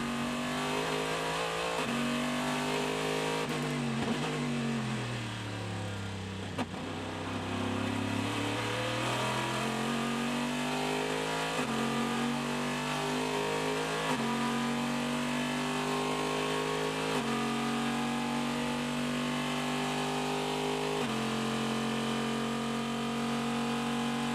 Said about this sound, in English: Now listen to that big V8 in the Corvette.